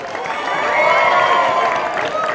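A street crowd at the Carnival of Flowers parade in Toowoomba cheers and whoops for a passing cheerleading club, a steady swell of many voices with scattered clapping, moderately loud.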